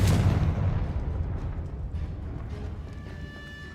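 Bombarda and Confringo spell blasts go off in the Hogwarts Legacy video game. One heavy, booming explosion hits at the start and rumbles away slowly into a low wash, with no talk.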